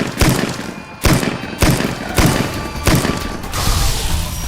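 Gunshots in Fallout New Vegas during The Lonesome Road, five loud heavy thuds spaced about a second apart, each with a booming tail, close and prominent.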